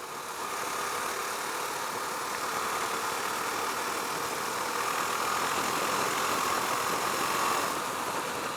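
A Husqvarna Svartpilen 401 motorcycle with a 400cc engine is ridden at a steady pace. The engine drone is continuous and even, mixed with a constant rush of wind for the whole stretch, and nobody speaks.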